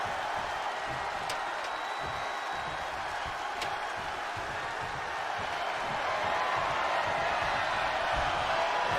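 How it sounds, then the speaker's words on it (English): A wrestling crowd at a charity fundraiser event roars and cheers as a table is set up in the ring, a dense sustained wash of distant voices filling the hall. "the crowd here popping big time for the table"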